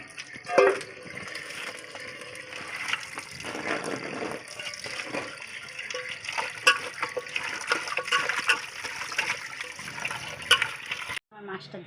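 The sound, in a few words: washing fish in water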